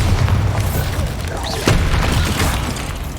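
A Bombarda spell blast in Hogwarts Legacy on PS5, a loud booming explosion with a sharp burst midway amid dense continuous game effects.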